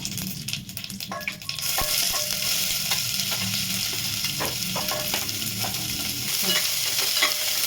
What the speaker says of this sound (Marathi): तर ह्याला कांद्याला थोडासा फ्राय करून घेऊया